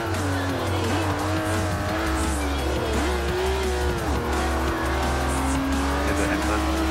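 A car drifts in Forza 4, its tires squealing in long sustained screeches over a droning, fluctuating engine, loud and constant throughout.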